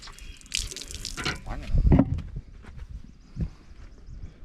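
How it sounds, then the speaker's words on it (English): Water splashes and trickles out of laundry as it is squeezed through an Atlas shammy wringer, in short uneven bursts with a stronger gush partway through. "See, so you can see the water coming out."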